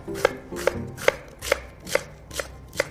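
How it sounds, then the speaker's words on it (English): A knife thinly slicing radicchio on a cutting board makes seven crisp, evenly spaced chops, close and clear with no talking. "take the end off, cut it in half, and then I just cut it like"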